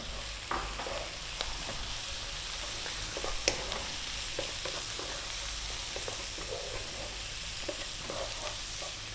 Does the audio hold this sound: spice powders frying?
yes